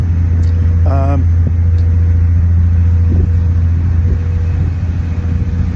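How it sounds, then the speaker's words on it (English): A small car ferry running from Mill Bay to Brentwood gives off a loud, constant low engine rumble that fills the clip, with a brief tonal squeal near the start. "We're on the ferry from Mill Bay to Brentwood"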